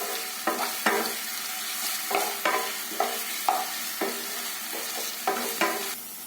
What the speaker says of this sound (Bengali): দেব আদা, লঙ্কা দিয়ে একটু নাড়াচাড়া করে নেব।